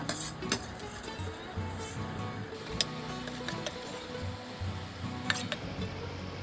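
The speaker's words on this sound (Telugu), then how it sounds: "జీడిపప్పు, బాదం, కిస్మిస్ ఇలా లైట్ గోల్డ్ కలర్లో వచ్చేలాగా ఫ్రై చేసుకోవాలి" Cashews, almonds and raisins frying in ghee in a pan on low heat, with a soft steady sizzle and scattered clinks and scrapes of a spoon against the pan.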